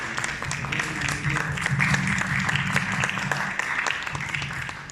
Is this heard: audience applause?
yes